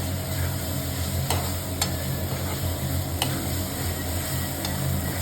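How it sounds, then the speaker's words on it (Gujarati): A ginger, chili and garlic paste sizzles in a pan for a garlic curry, a steady close frying hiss with a few sharp clicks of stirring. "આદુ મરચાં અને લસણની જે આપણે પેસ્ટ વાટી હતી એ નાખશું."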